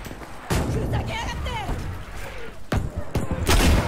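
A rocket launched into a house in the Battlefield 5 video game amid a dense barrage of gunfire and booming blasts, with several sharp loud impacts near the end over continuous battlefield rumble; a voice talks beneath it.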